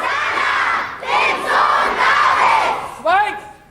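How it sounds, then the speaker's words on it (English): A crowd of schoolchildren shouts in a play rehearsal, with loud overlapping voices in a series of swelling bursts and a short, sharp group yell near the end. "Whole school classes help to swell the crowd scenes and voices."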